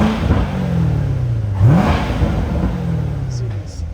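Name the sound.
2016 Corvette Z51 engine revving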